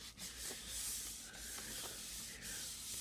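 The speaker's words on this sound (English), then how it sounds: "I'm using the back because I'm gonna make like a journal. So I'm gonna rub that down really good." Paper rubbed down firmly by hand on the back of a sheet laid over a Gelli printing plate, a steady close broadband scuffing that continues through the whole stretch with slight surges, no voices.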